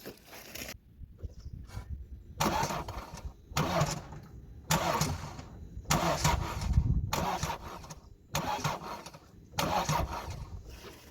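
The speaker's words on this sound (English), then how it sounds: "just turn the engine over, do not start it obviously, just flick it over on the key" A diesel engine cranks over on the starter in repeated bursts of a few seconds each, separated by short pauses, without catching. Close and steady.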